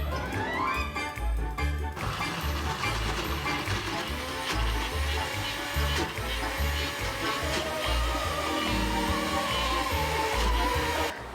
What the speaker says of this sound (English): We're gonna blend this up.